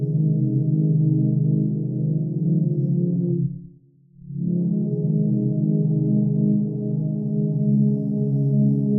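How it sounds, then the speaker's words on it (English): A sustained tonal sound washed in heavy reverb, ringing on, cutting off briefly, then swelling back in with a long, spacious tail. "Huge reverb."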